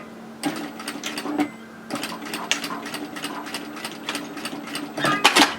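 A domestic sewing machine runs in short bursts of rapid, even stitching as it stitches elastic onto a skirt waistband, each run close and clear with brief pauses and no talking.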